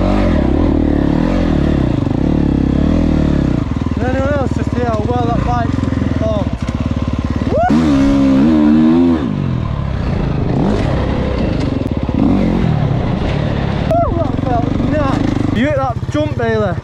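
A dirt bike revs hard in second gear through a jump, its engine note rising and falling in repeated surges, loud and close, with people talking over it throughout.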